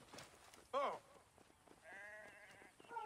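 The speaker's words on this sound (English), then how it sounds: "I ran over his goat." A goat in the Assassin's Creed Origins video game gives a single short, wavering bleat, loud against soft background game ambience, followed by quieter tonal calls.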